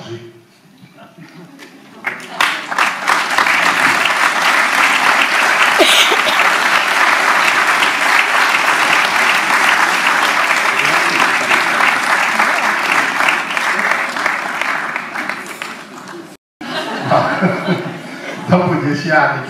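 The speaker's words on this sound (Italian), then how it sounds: "applausi." A theatre audience at Teatro Rasi in Ravenna bursts into loud, sustained applause after a lecture, building in after a quiet start, dropping out briefly near the end, then resuming more thinly as a voice returns.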